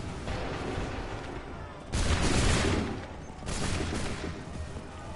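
Musket volleys crack out from Assassin's Creed 3, two dense bursts of massed gunfire about a second and a half apart, loud and broadband over a constant battlefield din.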